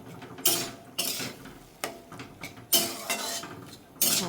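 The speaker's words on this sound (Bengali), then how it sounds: "প্রথমে একটু নেড়ে নেব, ভালোভাবে মশলার সাথে মিশিয়ে নিই" Boiled peas and spices being stirred in a pan: a run of loud metallic scrapes and clanks from the spoon against the pan, irregular and close, with no voice.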